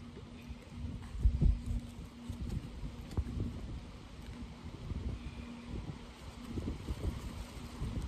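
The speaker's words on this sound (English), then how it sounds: "The wind always blows like this." Cold wind blows outdoors across open country, a soft, uneven rumbling buffet against the microphone with gusts swelling and easing throughout.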